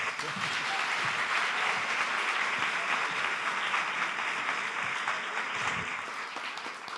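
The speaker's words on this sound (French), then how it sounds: "Merci d'applaudir très fort Cyrielle." Sustained audience applause at a live storytelling evening, dense and steady clapping filling the room for several seconds at full, even loudness with no break, welcoming a speaker to the stage before she begins her story.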